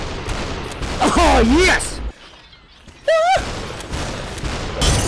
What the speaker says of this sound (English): Oh, shotguns are bad!